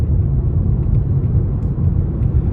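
A 2025 Nissan Sentra SR accelerating in sport mode, heard from inside the cabin as a steady, loud low engine and road rumble that holds throughout without a break.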